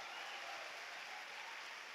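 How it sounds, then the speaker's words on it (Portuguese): Applause from a Brazilian church congregation during a service, a steady wash of many hands clapping that continues evenly throughout without voices standing out. "Vamos aplaudir esse nosso Deus."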